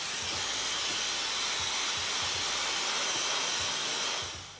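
A hair dryer blows steady hot air at the roots of type 4 natural hair during stretching, a continuous close rushing hiss with no talk.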